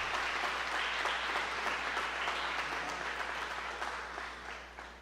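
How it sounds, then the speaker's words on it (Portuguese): A church congregation applauds for Jesus in a continuous wash of clapping that holds steady, then gradually fades toward the end. "Queria até que você batesse palmas para Jesus"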